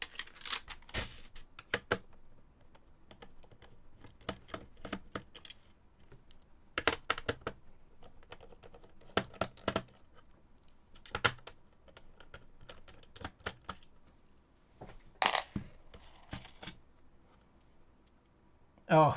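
A mechanical keyboard is cracked open and handled, giving scattered sharp clicks, taps and plastic clatter in irregular bursts with quiet gaps between them, close to the mic.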